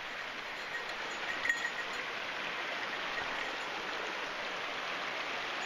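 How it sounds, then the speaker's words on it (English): A mountain stream in the Great Smoky Mountains backcountry rushes at a hiking crossing as a continuous, even wash of flowing water, fairly soft and unbroken, with no voices. "Looks like we got another stream crossing."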